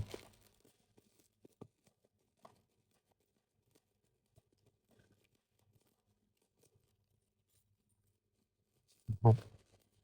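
A wrapped parcel of items sent in by viewers is torn open, with scattered faint rustles and taps followed by one short, loud ripping burst near the end in an otherwise quiet room.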